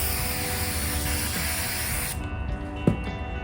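A spray can hisses in a steady, loud, close burst for about two seconds while coating chairs being modified, then cuts off, leaving faint room noise and a small knock.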